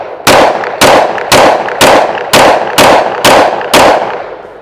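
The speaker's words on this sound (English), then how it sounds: "it's still a pretty darn manageable pistol to shoot" A Springfield XDM Elite 10mm pistol fires eight loud, sharp shots in an even rhythm, each with a short ringing decay, close and alone with no talking.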